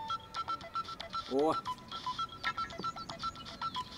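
A telephone rings with a repeating electronic tone, short evenly spaced beeps and a brief warbling trill, heard indoors under a man's speech.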